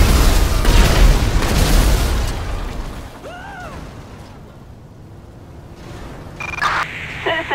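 A loud booming explosion in GTA V erupts at the start and rumbles down over a few seconds, followed by quieter game sounds and brief voices.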